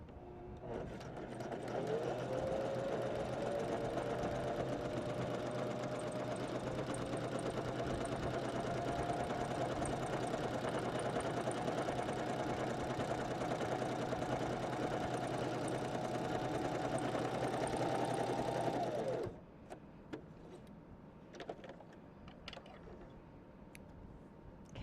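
A Janome 500 or 721 sewing machine runs steadily for about seventeen seconds stitching sample stitches, a loud, even mechanical whir with a faint rising motor whine, then stops abruptly, leaving quiet handling clicks.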